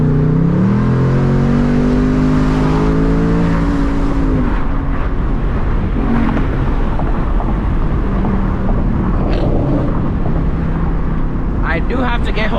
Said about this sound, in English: This car is crazy loud, dude.